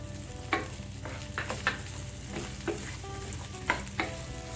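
Vegetables including capsicum sauté in a pan for a paneer kathi roll, with a soft, steady sizzle and a few light scraping stirs, quiet and close, no talking.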